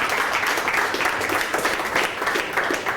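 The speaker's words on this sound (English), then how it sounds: "another round of applause please for Charlie and for Tim" An audience claps for a pair of speakers at the close of a talk on voice search, a dense, even wash of applause lasting the whole stretch with no voices over it.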